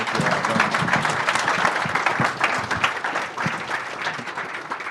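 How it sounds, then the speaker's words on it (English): A conference audience at a town hall on crypto in Boston applauds its panelists, dense sustained clapping from many hands filling the room, loud and continuous for the full length. "Let's give a really big round of applause for our panelists."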